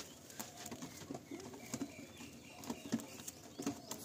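Giribaz pigeons cooing in a loft, soft low repeated coos with faint fluttering and rustles, quiet and somewhat distant against a hushed background.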